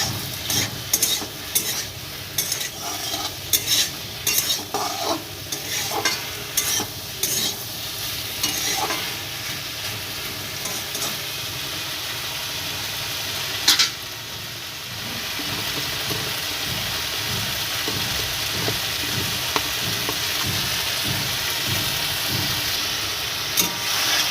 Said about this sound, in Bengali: এর মধ্যে আবার দিয়ে দিলাম বেগুন আর যেটা কাঁচা লঙ্কা দিয়ে আবার একটু নাড়াচাড়া করে নেবো বা কষিয়ে নেবো